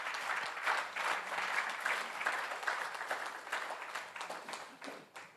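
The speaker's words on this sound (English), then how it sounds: "So please, can we just applaud for them?" An audience applauds at an internet summit in Ghana, a sustained patter of many hands clapping in a hall, fairly soft and slightly distant, tapering off toward the end.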